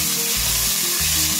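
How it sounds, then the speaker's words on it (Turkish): Lamb suet rendering in a hot pan, a steady loud sizzle and crackle of frying fat close up with no voices. "iç yağımızı kavurmaya başladı"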